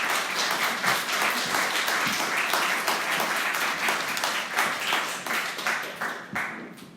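A church congregation applauds to welcome a visiting missionary speaker to the pulpit at a Sunday worship service, with sustained dense clapping that fills the room and thins toward the end, with no talk over it.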